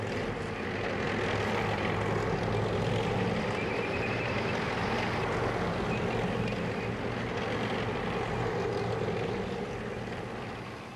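A propeller-driven American military aircraft drones overhead in a steady, broad rumbling roar that holds level for the whole stretch and eases slightly at the end, with no voices.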